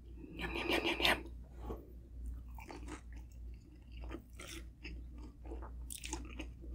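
Close, crunchy bites and chewing of Totino's pepperoni pizza rolls dipped in queso cheese sauce, with a burst of crisp crunching at first and then softer, wet chewing and smacking in an uneven rhythm, alone with no talking.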